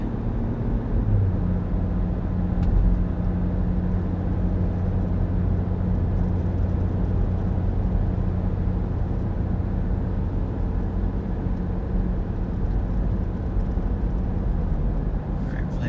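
A race car accelerates up the hill out of turn 7 at Watkins Glen during the Green Grand Prix, heard from inside as a steady, loud drone and road rumble with a held low tone.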